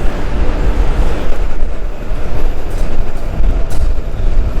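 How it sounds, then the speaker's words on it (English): A Prague metro train approaches the station, a loud sustained rumble of wheels on rail with rhythmic clatter and rising intensity, heard alone in the underground platform space. "the lights flash as the metro is approaching"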